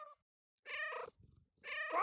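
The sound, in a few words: cat meowing in the video game Catlateral Damage-like CATO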